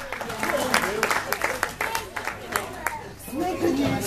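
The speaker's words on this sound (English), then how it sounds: "Give Billy a big round of applause." An audience at a creepy crawly show gives a volunteer a round of applause, scattered, moderately loud clapping mixed with crowd chatter, and a voice talks over it near the end.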